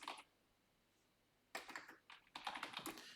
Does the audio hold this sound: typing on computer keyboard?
yes